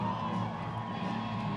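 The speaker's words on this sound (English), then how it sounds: "Come on, cheer him on." A rodeo crowd cheering for a bareback rider at a championship event, a dense, sustained roar of voices and whoops filling the arena, steady and moderately loud throughout.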